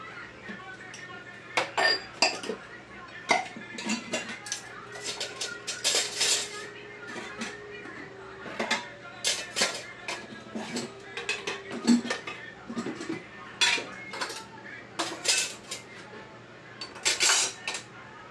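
A metal pot being handled while cooked rice is taken off the stove in a cramped kitchen: irregular clinks, knocks and scrapes of cookware, close by, with a voice heard at times.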